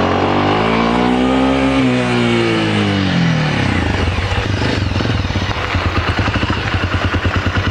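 A motorcycle with a 43-tooth rear sprocket accelerates in first gear, its engine note climbing steadily, then dropping after a few seconds into a rough, pulsing run.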